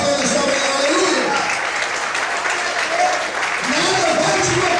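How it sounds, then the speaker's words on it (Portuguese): Worshippers at a Portuguese-language church service clap loudly and continuously, a thick, even wash of applause with voices and singing carrying through it. "Todos podem aplaudir e exaltar o Senhor nesta manhã"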